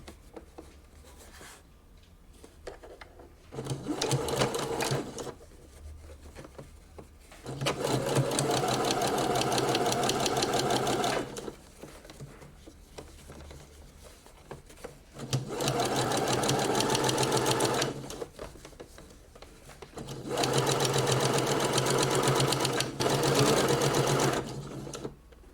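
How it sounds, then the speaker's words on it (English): A sewing machine runs in four long steady bursts with short pauses between, understitching the seam of a puff sleeve; the whirring motor and needle rattle are loud and close, with no talk. "So what we want to do now is to understitch it."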